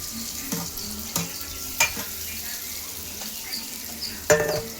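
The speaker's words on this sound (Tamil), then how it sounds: "வெங்காயம் நல்லா கோல்டன் ப்ரௌனாக வறுத்துக்கலாம்" Steady sizzling of onions frying golden brown in hot oil for fish curry, with occasional clinks and stirring scrapes of a utensil against a pan.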